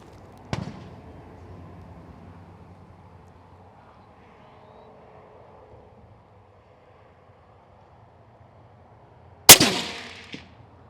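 A hunting rifle fires one sharp, loud crack near the end, with a short echo rolling away over open bush. A fainter, distant bang sounds at the start over quiet outdoor background.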